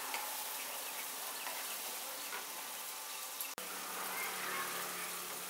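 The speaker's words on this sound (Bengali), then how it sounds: "এখন সব মশলাগুলোকে আমি ভালো করে একটু কষিয়ে নিচ্ছি।" Spices sautéing in a pan while preparing Bengali doi katla fish curry, a steady close sizzle and crackle running throughout with a brief clatter of stirring partway.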